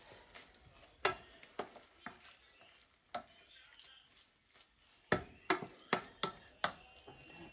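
Cheese being stirred into a pan of food for a meal-kit pasta dish, with a soft sizzle under repeated sharp clacks of a utensil against the pan, loosely rhythmic and clustered toward the end.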